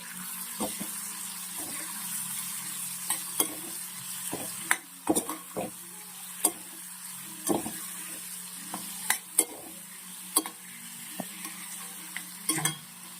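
Pointed gourd curry with turmeric and salt cooks in a pan, giving a steady low sizzle broken by repeated scrapes and clinks of a spoon as it is stirred, close and without speech.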